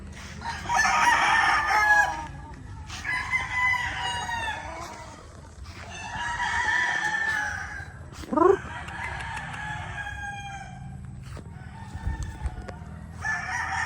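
Gamecock stags, straight-combed gold birds with green legs, crow repeatedly at a farm, several overlapping cock-a-doodle-doos near and far with clucking and a brief sharp squawk, over steady outdoor background noise.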